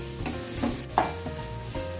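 Chicken pieces sizzle steadily in a hot pan for a Tamil-style chicken curry, with scraping stirs of a spoon cutting through the frying at intervals, close and fairly loud, with no talk.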